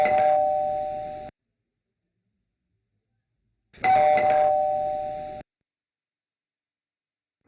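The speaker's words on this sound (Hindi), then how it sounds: "दरवाजे की मखसूस अंदाज में घंटी बजने पर वो खुशी से उठकर खड़ी हो गई" A house doorbell rings twice with a bright electronic chime, each ring lasting over a second and separated by a few seconds of silence, loud and close with no voices.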